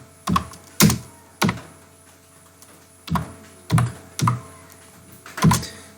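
Keystrokes on a computer keyboard while entering an HTML5 doctype, a handful of separate clacks and short bursts with brief pauses between them, close and alone in a quiet room.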